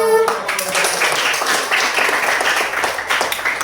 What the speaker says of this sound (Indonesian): kita berikan aplaus tepuk tangan dulu untuk semua